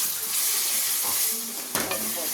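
Mango pachadi sweetened with jaggery bubbles and sizzles gently in a pan, a steady close hiss with one sharper pop or stir near the end.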